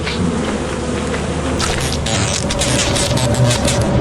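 Bees swarm from beehives in Lethal Company, a dense, loud, continuous buzzing drone that swells partway through, with no talking.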